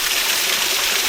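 Unnamed waterfall on a river tributary, a loud steady broadband rush of falling water heard up close, with no voices.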